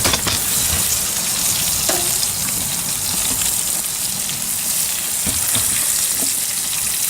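Costco prime tri tip steak sears in a very hot buttered pan, giving a loud, steady sizzle and crackle with scattered spitting pops throughout, no voices.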